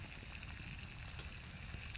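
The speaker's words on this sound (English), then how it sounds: "We've got a nice boil." Pond water at a rolling boil over a Firebox stove burning a Swedish torch log, giving a steady close bubbling and sizzling hiss with a faint crackle of fire underneath, continuous and unchanging.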